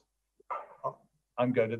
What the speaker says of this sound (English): that's my dog. That's my dog.